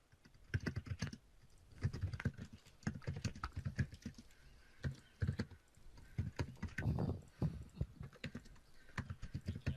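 Quick, irregular clatter of keys on a computer keyboard, close and fairly loud, in uneven bursts with short pauses, heard alone without talk.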